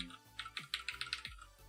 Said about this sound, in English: I type here, hold on, like that, just that background noise of clickiness